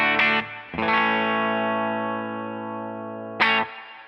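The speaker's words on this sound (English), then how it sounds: "now what you're hearing straight from the amp is the built-in reverb" Electric guitar run through a Fender Tone Master Pro preset with the amp's built-in reverb, playing a few loud sustained chords, each left to ring out into a long reverberant wash, with a fresh strum near the end.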